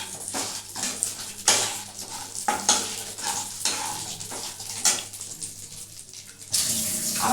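Chicken pulao with cashews and raisins in ghee is stirred in the pot, giving soft sizzling and repeated scraping strokes of the spoon, close and moderate in volume.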